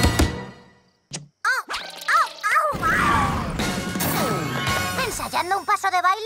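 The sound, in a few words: cartoon mega triple punch smashing a rock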